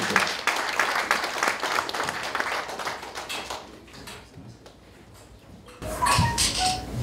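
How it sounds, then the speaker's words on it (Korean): Audience applause at a ceremony marking the 700th anniversary of Naong's birth, alongside a calligraphy exhibition. Moderate clapping fills the first half, then fades into quiet room tone before a brief louder rustle near the end. "모시도록 큰 박수로."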